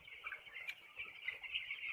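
Young broiler chicks, about 10 days old, in a flock of some 2000 on a poultry farm, keep up a steady high chirping and clucking chorus, fairly close and continuous, with no talk.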